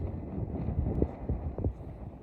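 Steady wind buffeting the microphone while sea fishing on the Menai Strait, a low rumbling roar that runs throughout with a few brief bumps and gusts.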